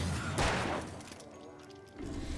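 Gunfire in the video game Alan Wake: a sharp blast near the start followed by fading rumble, with a panicked voice talking over it.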